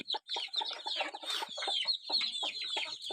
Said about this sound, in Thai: ลูกไก่สิบสองตัวเลยดก